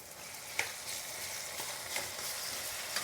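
Tomatoes fry in a pan for a spicy tri-colour capsicum prawn gravy, giving an even, continuous sizzle with a few faint clinks and no talking.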